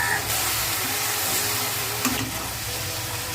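Onion, turmeric and coriander powder with crushed garlic fry and get stirred in a pan, giving a steady close sizzle with faint scraping over the whole stretch.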